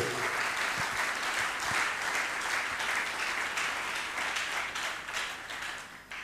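A church congregation at a gathering applauds the king with steady, sustained clapping that fills the room, fading slightly at the end with faint voices underneath.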